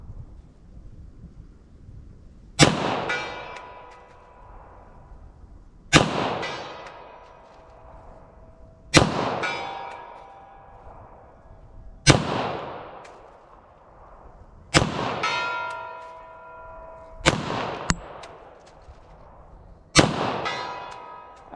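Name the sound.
pistol gunshots, .40 S&W and 9mm+P rounds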